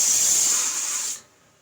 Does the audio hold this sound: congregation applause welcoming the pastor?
no